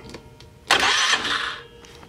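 A Polaris Sportsman 500 ATV, with a leaking carburetor boot and leaking needle and seat, cranks on the key and catches, a loud close whirring burst lasting under a second that fades off, after a few faint clicks.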